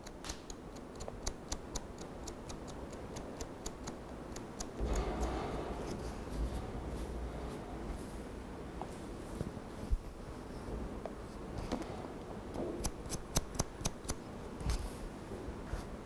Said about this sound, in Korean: 이건 이제 숫가위로 치는 것이 아니라 일반 블론트 가위로 치되 전체적인 흐름을 좀 잡아줍니다.